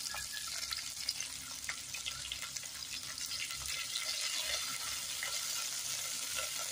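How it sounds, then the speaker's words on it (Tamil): Onions, curry leaves and salt sauté in a pan for a Tamil mochai kulambu, giving a steady close sizzle and crackle with occasional stirring scrapes throughout. "வெங்காயம் நல்லா வதக்கிக்கலாம்."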